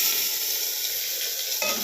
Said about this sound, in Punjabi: ਮੈਂ ਲਾ ਰਹੀ ਹਾਂ ਤੜਕਾ ਦਾਲ ਨੂੰ